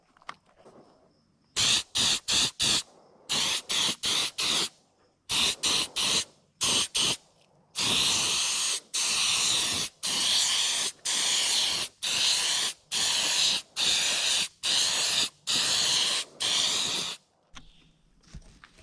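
Aerosol or airbrush spray laying a final paint coat on a replica largemouth bass fish: a series of short hissing bursts, then longer evenly spaced sprays, loud and close with no talking.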